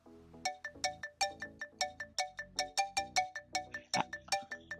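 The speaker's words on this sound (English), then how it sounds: "an incoming call has gotten triggered" Incoming phone call ringtone in SAP Service Cloud agent desktop, a bright melodic electronic tune of rapid repeating plucked notes in a steady looping rhythm, clear and close.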